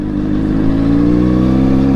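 A 2020 Honda CBR600RR engine runs loud and close, its low throbbing note climbing gently and steadily as throttle is eased on while the bike rolls forward.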